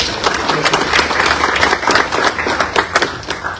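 An audience at a talk on facing climate change in Peru breaks into steady applause, many hands clapping densely and evenly for a few seconds with no voices over it.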